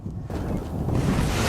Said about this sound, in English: really strong wind in our face